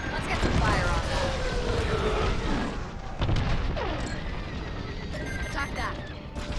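Starfighter cannons and explosions in the Star Wars Squadrons space combat game boom and crackle in loud bursts over a dense battle din, with voices talking over the action.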